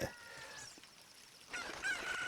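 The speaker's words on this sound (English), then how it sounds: "we're going to grab this chicken, this cuckoo" A cucco chicken in Zelda: Ocarina of Time gives short clucks and squawks, faint at first and then louder near the end, over soft game sound.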